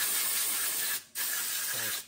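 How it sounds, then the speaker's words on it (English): Compressed air spray blowing out a gun frame: two loud, steady hissing bursts split by a brief pause. "I got some air spray."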